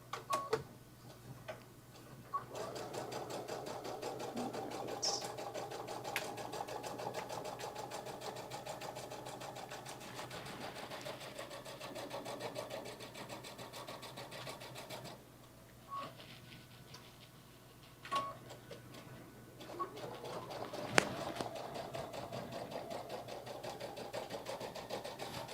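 Sewing machine stitching a fur tote, a steady close mechanical whir with fast ticking that runs almost continuously, broken by a few short pauses and clicks.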